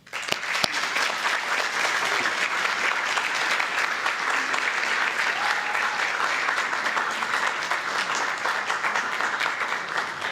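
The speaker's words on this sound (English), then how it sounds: "please join me in one more round of applause for them" An audience at a school board meeting gives a steady, full round of applause for commended students, a dense wash of clapping lasting the whole stretch with no talk over it.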